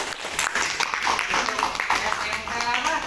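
Audience clapping after a school sociodrama group performance about gadgets, a steady dense patter of many hands for about three seconds with voices talking over it.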